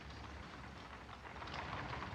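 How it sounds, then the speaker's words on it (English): Rain falls steadily and softly, a continuous gentle hiss that swells slightly toward the end, with no voices. "The rain never stops"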